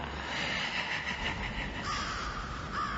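Harsh, repeated crow caws from a Spirit Halloween Lord Raven animatronic prop, loud and continuous over a steady electronic hiss, with no talking.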